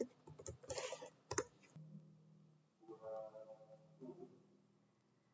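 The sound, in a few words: typing on a computer keyboard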